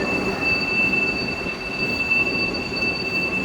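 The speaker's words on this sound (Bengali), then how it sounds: "তো এই ছিল হাই স্পিড ট্রেন।" A Chinese high-speed train runs with a steady, continuous rumble and rushing noise, overlaid by sustained high whining tones from the running gear, close and unbroken throughout.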